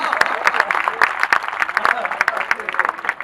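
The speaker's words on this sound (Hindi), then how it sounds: "समझ में आ गई तो ताली बजा दीजिए एक बार।" An audience at a Hindi poetry gathering claps in response to a joke, with distinct individual claps over a backdrop of murmuring voices and talk.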